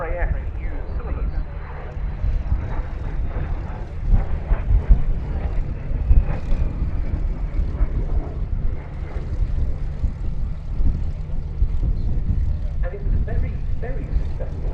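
A de Havilland Vampire jet fighter flies at the Duxford Battle of Britain airshow, giving a steady, moderately loud jet roar with a slowly shifting whine, while a commentator talks over it throughout.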